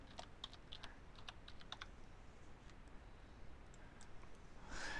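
A computer keyboard is tapped to press the Control F2 shortcut, with a run of quick, light key clicks followed by a few scattered presses, close and quiet.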